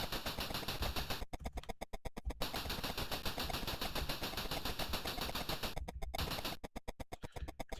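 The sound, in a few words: machine gun fire in the C64 video game Cabal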